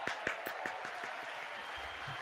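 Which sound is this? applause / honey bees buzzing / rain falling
applause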